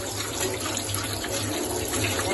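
Running tap water pours steadily while freshly cut bones are rinsed under it in a kitchen sink, a close, continuous splashing hiss with no speech.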